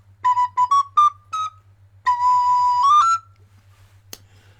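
A recorder played in a series of short clear notes, then a longer sustained tone that bends upward near the end, close and alone, followed by a single sharp click.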